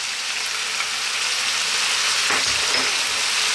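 Onion and garlic-ginger paste sizzle and fry with lamb pieces in a hot pan, a steady close crackling hiss that holds throughout with a brief stirring scrape near the end.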